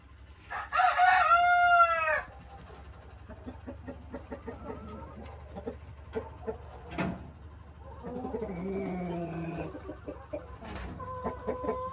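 Hens clucking and a rooster crowing inside a henhouse: one loud, close crow opens, followed by scattered clucks and squawks, with further calls and a short crow-like call near the end.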